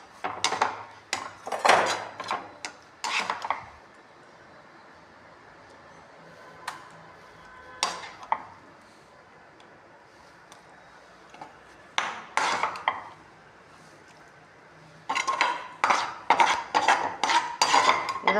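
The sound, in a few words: spinach kootu being transferred into a bowl, utensils clattering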